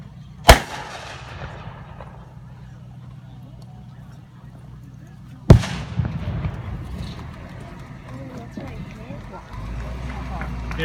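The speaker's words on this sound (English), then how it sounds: "It shoots this piece of ordnance right here, the M43A1." A weapon firing M43A1 ordnance rounds in a close-assault demonstration: two loud, sharp blasts about five seconds apart, each with a ringing, decaying echo, over low background rumble and faint voices.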